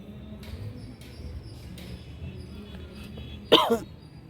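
A single short cough from someone with a cold bursts out near the end, after several seconds of quiet low background noise.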